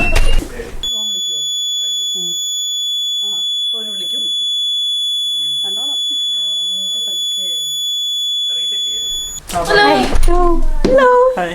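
A home security alarm goes off during a demonstration, sounding loud, sustained, high electronic tones for several seconds while people talk beneath it, then cutting off as louder speech continues.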